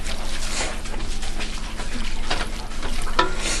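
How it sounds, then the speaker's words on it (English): Canned mushrooms and their liquid pour into a pan of sloppy joe meat, giving a steady, fairly loud wash of splashing and sizzling that hisses on evenly without pauses. "I'm going to add this can of mushrooms along with all of their liquid"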